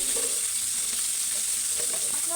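Shing fish seasoned with salt and chilli frying in hot oil in a kadai on its second side, a constant loud sizzle with faint stirring clinks and no talk.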